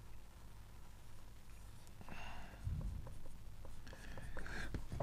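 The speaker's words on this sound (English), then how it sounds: "I'll just write it down and show you" Pen or pencil scratches across paper as music notation is written down, faint close strokes and taps over a quiet room hum.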